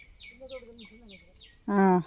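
A few soft repeated chirps, then a loud, nasal, wailing peacock call rings out close by, near a cashew orchard.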